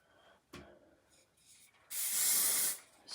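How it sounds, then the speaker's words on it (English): A single sustained spray burst from a pump bottle onto hair, a bright hissing mist lasting under a second, preceded by faint rubbing and a soft tap. "Spray that."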